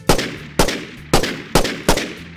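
Five loud gunshots fired at slightly irregular intervals, each a sharp crack followed by a brief echoing decay.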